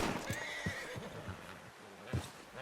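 A horse in the Red Dead Redemption 2 video game whinnies loudly over scattered clip-clopping hoofbeats; the hooves sound close and irregular, with no talk.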